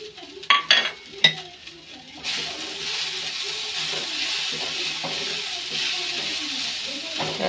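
Dry chillies, fried earlier, tossed into cooked leafy greens in a pan: a few sharp clatters at the start, then a steady soft sizzle with faint stirring that carries on to the end.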